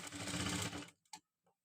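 A sewing machine stitches along a blouse neckline in a steady, close mechanical whir for just under a second, then stops, leaving a few faint clicks.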